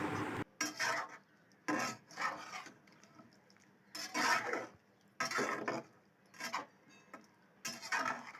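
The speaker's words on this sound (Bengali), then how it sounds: "এবার আমি সেদ্ধ করে রাখা মটর ও আলুটা দিয়ে দেব। ভালো করে নেড়ে নেব।" A spoon scrapes and stirs boiled peas and potatoes into fried spice masala in a pan, a run of rhythmic rasping strokes with short pauses between them, close and clear.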